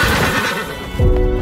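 A horse neighs loudly near the end of a short stretch, rising out of a dense, busy background of other sounds; the whinny comes in close and strong rather than from a distance.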